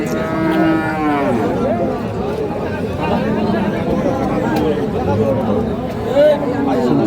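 Bulls for farm rearing low and moo repeatedly at the busy Khochabari cattle market in Thakurgaon, loud and close, over constant crowd chatter and haggling voices.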